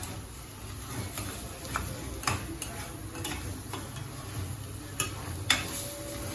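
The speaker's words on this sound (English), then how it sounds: "We'll stir for 10 minutes until the egusi is properly fried or properly mixed with the oil." Spoon stirring ground egusi seeds frying in oil in a pot, with steady low sizzling under repeated scraping strokes and a few sharper clicks against the pan, close and alone without talk.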